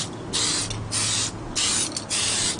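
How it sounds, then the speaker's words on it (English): A spray paint can mists paint onto an RC dually truck body in four even, loud hissing bursts separated by short pauses, close up with no talk. "Notice that when I go to spray, I always make sure the spray paint can is clear anyway."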